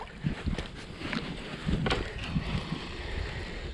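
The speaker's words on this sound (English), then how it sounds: "The wind is not supposed to be blowing today." Wind buffets the microphone outdoors on a fishing boat during flooding, a rough, gusty low rumble with irregular surges and faint splashy knocks, close and steady throughout.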